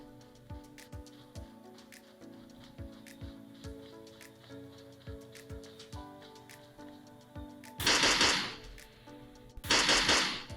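Gunfire from the video game PUBG, played on a Samsung Galaxy Tab S6, sounds as a steady series of sharp single shots, followed by two louder, hissing bursts near the end, close and clear with no speech.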